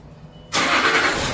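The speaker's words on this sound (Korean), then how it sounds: "시동 켜주세요." A Land Rover Discovery 3 engine cranks and catches after a quiet moment, settling into a steady close idle.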